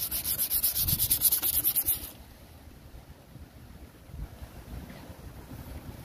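Rapid rhythmic sanding strokes on an oxidized, sun-yellowed headlight lens for about two seconds, then fading into quieter handling and scraping noises.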